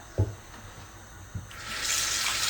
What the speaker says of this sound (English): we're going to put cold water in here